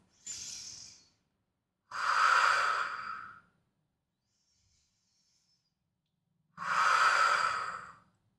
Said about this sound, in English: You're gonna close your eyes and take 2 deep breaths.